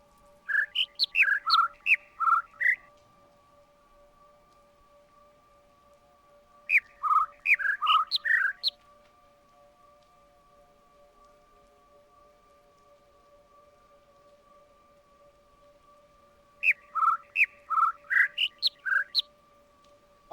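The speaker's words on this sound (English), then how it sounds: "one of those had 6 chirps." Birds chirp in three quick rapid-fire bursts of bright tweets, each a run of about six to eight notes, separated by pauses over a steady low electronic hum.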